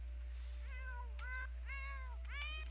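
Cats in The Sims 4 video game meow and whine in a string of drawn-out, rising and falling cries, four or five in quick succession, fairly close over a steady low electrical hum.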